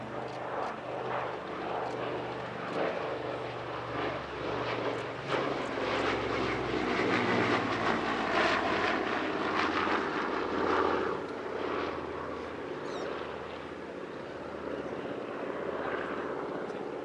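A twin-engine Avro Anson, the British piston-propeller aircraft, flies at the Shuttleworth Family Airshow: a sustained, rough propeller drone swelling and easing as it passes, heard alone without any talking.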